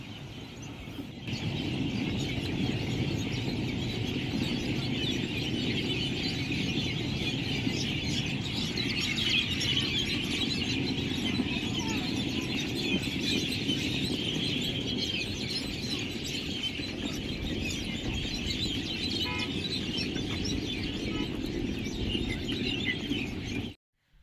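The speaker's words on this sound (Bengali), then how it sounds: "এত সুন্দর পাখির আওয়াজ হচ্ছিল" Birds sing through an evening in Srinagar, a dense steady chorus of chirps and calls over a constant broad outdoor wash, fairly loud and unbroken for most of the stretch before cutting off abruptly.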